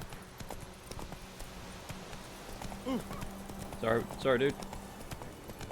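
Horse hooves clip-clopping in a steady galloping rhythm in The Witcher 3, a moderate run of regular thuds under brief spoken words from a man.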